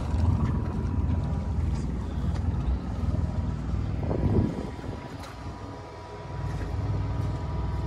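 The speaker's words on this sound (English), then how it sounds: "Hear the generator running there," A generator hums steadily aboard a Jeanneau Merry Fisher 1095 boat, powering a SeaKeeper stabilizer. The low, continuous rumble sits under wind and water noise throughout.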